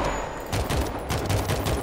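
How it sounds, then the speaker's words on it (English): Rapid bursts of gunfire in the World War Z zombie video game, a sustained fusillade of overlapping shots crackling loudly throughout with a noisy battle backdrop and no talking. "I hear gunshots."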